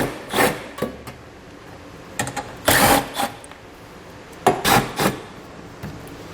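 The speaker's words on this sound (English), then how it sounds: "I'll pull them out using a 10mm socket" 10mm socket wrench loosening the bolts of a trim ring while installing a Curt trailer hitch receiver on a 2020 Lexus NX 300, with several short ratcheting bursts and metallic rattles separated by pauses.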